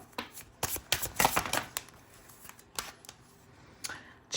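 Oracle cards are shuffled close up in a series of crisp, papery riffling bursts with short pauses, strongest in the first half and tapering to sparse flicks.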